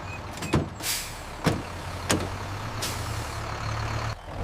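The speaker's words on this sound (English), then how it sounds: "This is a truck." A truck idles with a low steady rumble, broken by several sharp hissing bursts like air brakes or door thuds, heard close with no voices.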